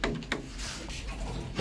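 A hydraulic lift door in a 2004 passenger lift in Uxbridge slides shut, a short close rumbling slide with a soft knock at the start and a thud at the end.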